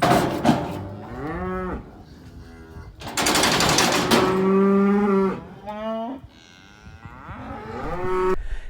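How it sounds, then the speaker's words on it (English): Adult cows in a corral during spring vaccinations moo loudly and repeatedly, with long drawn-out calls from several animals following one another, close by with no talk. "Now we're on to the adult cows"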